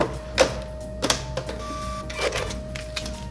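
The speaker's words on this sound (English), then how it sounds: "So you open up the cover, drop in the receipt printer," A Citizen CT-E351 front-exit, top-loading receipt printer has its cover opened and paper dropped in, giving a short run of plastic clicks, rattles and a brief mechanical whir, all close and unaccompanied by speech.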